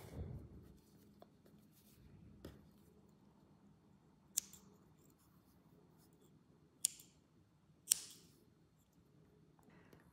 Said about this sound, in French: Ensuite, il n'y a plus qu'à couper.